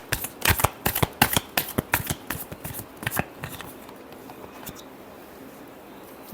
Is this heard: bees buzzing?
no